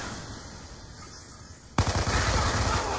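Black Ops 2 gunfire bursts in suddenly after a quiet game ambience, a loud, dense run of automatic shots that continues steadily to the end, with no voices over it.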